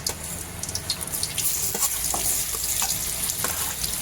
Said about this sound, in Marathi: कांदा भाजून घेऊया मस्तपैकी